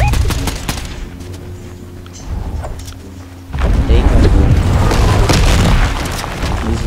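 Fortnite Chapter 4 Season 2 squads match with loud bursts of gunfire and booming shots, a rapid volley dominating the second half, while players talk over the fighting.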